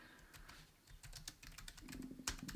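Typing on a computer keyboard while searching online, a quick run of light, faint clicking keystrokes heard alone and close.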